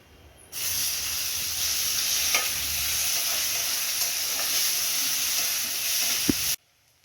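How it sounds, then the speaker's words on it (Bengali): Onions fry in hot oil with bay leaf, whole cumin, cardamom and cinnamon, giving a steady, bright sizzle that starts abruptly and holds evenly, broken by a few clinks of stirring before cutting off. "পেঁয়াজ ভেজে ভাজা ভাজা করে নিয়েছি"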